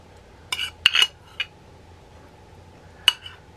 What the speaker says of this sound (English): Put a little butter on them.